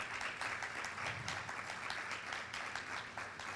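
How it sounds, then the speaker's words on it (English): Applause from an audience at a breeders' talk, steady dense clapping held at a fairly quiet, even level for a few seconds, with no voices over it. "I'd actually like a round of applause for Grayson and all that they do."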